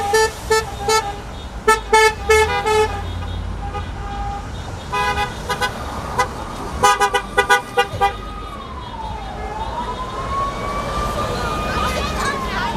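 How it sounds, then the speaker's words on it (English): A Panthers truck rolls past at an Oak Forest graduation, giving bursts of short horn toots, then a siren that sweeps up and down, over steady background noise. "This truck for the Panthers go by."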